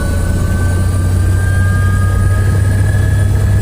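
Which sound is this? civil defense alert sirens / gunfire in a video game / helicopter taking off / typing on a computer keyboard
helicopter taking off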